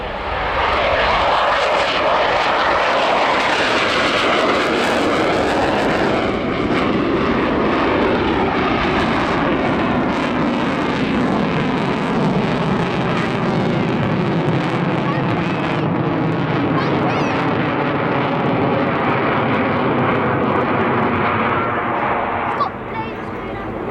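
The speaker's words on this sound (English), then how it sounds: "It entered service in 1985 with the then Soviet Air Force, the Sukhoi Su-27," A Sukhoi Su-27 Flanker jet of the Ukrainian Air Force roars through an airshow display, a loud sustained engine roar that sweeps in pitch as it passes, with an announcer talking over it.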